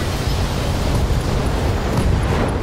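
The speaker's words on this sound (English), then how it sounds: "Oh, and LRM explosions." LRM missile explosions in the Battletech video game make a dense, loud, continuous roar of blast noise that lasts throughout, with no distinct separate booms standing out.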